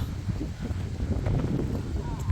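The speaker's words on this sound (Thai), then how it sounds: "เสียงลมบ่" Wind gusts steadily against the microphone ahead of a rainstorm, a low rumbling roar that rises and falls throughout, with faint rustling underneath.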